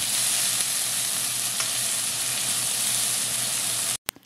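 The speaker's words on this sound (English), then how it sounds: "stir and continue frying on low heat for about 30 seconds." Curry leaves and pimento frying on low heat in a pan while being stirred, a steady close sizzle that holds evenly for about four seconds before cutting off, followed by a couple of faint knocks.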